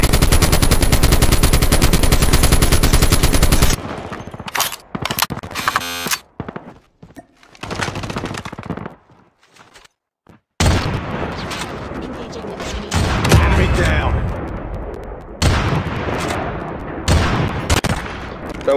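Video game battle gunfire, a long stretch of loud, continuous automatic fire followed by scattered shots and bursts, with quieter gaps and voices talking in between.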